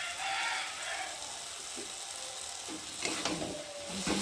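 A mustard paste curry of pabda fish sizzles in a pan while being stirred, a soft continuous hiss with a few light scrapes and knocks near the end, fairly quiet and close.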